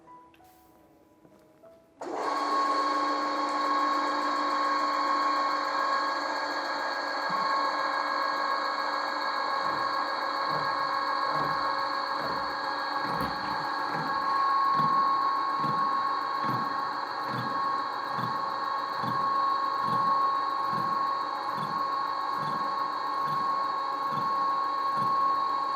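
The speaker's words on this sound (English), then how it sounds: "Now we will see the slot cutting operation, where the primary cutting motion will be given to that particular cutting tool" A milling machine cuts a slot in a workpiece, starting abruptly after a quiet moment, then holding a steady whining motor drone with regular rhythmic knocking from the cutter, loud and close.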